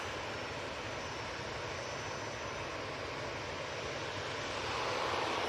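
A jet airliner bound for Alicante rolls for takeoff, a dense, continuous engine roar that stays constant and builds slightly louder near the end, with no talk.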